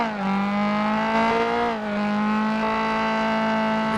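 A car with a broken silencer drones in a role-play video game, a loud, steady, buzzing engine tone that dips briefly in pitch midway and then holds.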